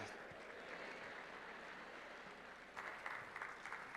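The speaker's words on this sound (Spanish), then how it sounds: "Un fuerte aplauso para ustedes, este maravilloso público" An audience at a John Maxwell leadership event in Panama applauds from a distance, a soft, continuous patter of many hands that swells louder toward the end.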